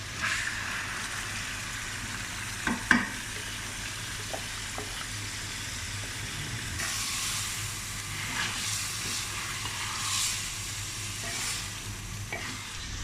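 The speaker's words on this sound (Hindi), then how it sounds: "ये मेरे पास 1/2 kg दाल है जिसको मैंने हाफ बॉयल कर लिया था, ये इसमें हम डालेंगे" Half-boiled daal stirred into hot ghee in a pan, a steady bright sizzle running the whole way with a few scraping spoon knocks near the start and softer stirring later, no voices.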